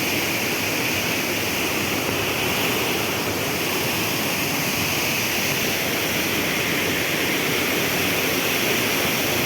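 A large waterfall at the Konkan coast gives a dense, unbroken roar of falling water, loud and constant throughout with no variation or voices.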